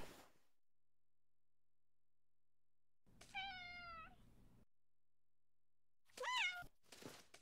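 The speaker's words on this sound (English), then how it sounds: "Aw, it's a kitty cat." Cat meowing in the video game Timelie, two separate drawn-out meows set apart by quiet. The second is louder and is followed by a short trailing sound.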